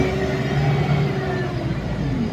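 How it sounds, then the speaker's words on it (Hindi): A bus engine droning steadily from inside the moving vehicle, a loud, continuous low hum with a faint whine, with no talking. "बस से जा रहे, बस की भी आवाज़ सुनते होगा गाइस, आवाज़ भी बहुत है गाड़ी में।"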